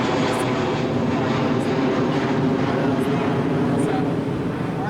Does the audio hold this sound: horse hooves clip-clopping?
no